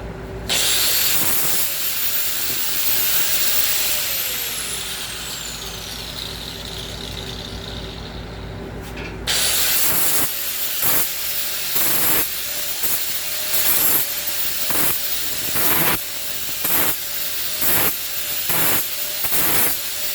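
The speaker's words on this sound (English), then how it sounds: "Just deburring this piece of angle here. You don't want any sharp edges." Deburring a piece of steel angle with a grinder: a loud, continuous harsh grinding whine for about nine seconds, then a string of short, repeated grinding passes with brief gaps, close and steady.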